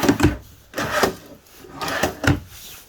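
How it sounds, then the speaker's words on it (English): Full-extension pull-out drawers in a 2019 Pioneer BH322 bunkhouse fifth wheel RV being slid open and shut, several close wooden rumbling slides and knocks over about three seconds. "You do also have 3 full extension pull-out drawers right here."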